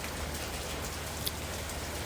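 Rain falling at night, a soft, even patter of drops on surfaces with a faint, constant hiss, heard alone without any voices.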